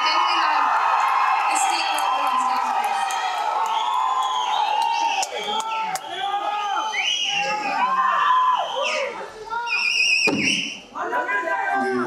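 Fans at a film pre-release event cheer loudly, with whoops, yells and shouting voices layered over a steady crowd roar throughout.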